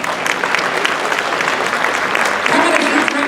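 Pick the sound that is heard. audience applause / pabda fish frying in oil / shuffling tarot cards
audience applause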